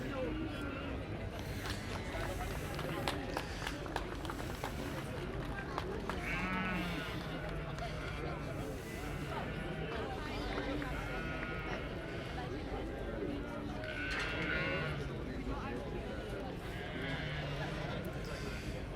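Dutch Spotted sheep bleat repeatedly amid a busy livestock show ring, with calls rising out of a dense crowd murmur while a commentator talks throughout.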